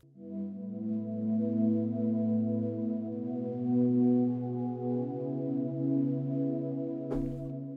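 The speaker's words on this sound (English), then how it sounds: "I'm going to use a synth sound called Heavenly, which is in our Omnia sample pack." A lush synth pad patch called Heavenly, from a sample pack, sustains layered chords at an even volume throughout, ending with a brief soft click near the end.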